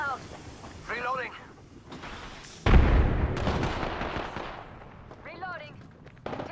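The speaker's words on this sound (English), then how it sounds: "Grenade out." A grenade detonates in a video game shooter, a sudden loud broadband boom with a rumbling tail amid gunfire, with radio-style voices chattering before and after.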